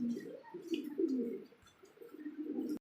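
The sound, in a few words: pigeons cooing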